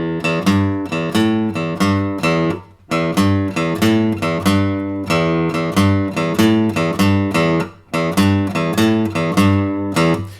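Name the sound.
beginner guitar lick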